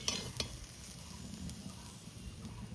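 Food fries gently in ghee in a wok, a soft, low sizzle with occasional stirring scrapes, quiet and steady throughout without any talking.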